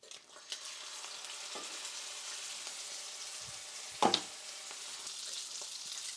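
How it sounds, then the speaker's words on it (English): A New York strip steak sears in a scalding hot pan, giving a steady, moderately quiet hiss throughout, broken by a brief louder clatter partway through. "Alright, our pan's scalding hot. Time to throw in that beautiful New York strip."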